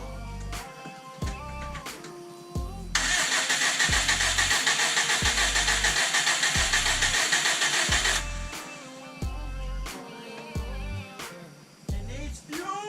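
A bug-eye Subaru cranks after an engine swap but won't fire for lack of fuel. The starter churns in a steady, rhythmic beat of loud pulses, with a harsh, broad roar surging through the middle before fading.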